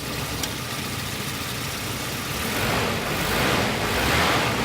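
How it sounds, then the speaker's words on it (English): A Volvo 740 Turbo with a repaired throttle linkage starts and is revved: a steady broadband engine roar that swells louder in the last couple of seconds, with no talking. "Let's start her up. Here we go. And to give her a rev."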